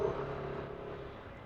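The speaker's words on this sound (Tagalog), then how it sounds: "Traffic guys." Road traffic with motorcycles heard from a rider's helmet: a continuous low engine rumble and road noise, fairly close, fading slightly.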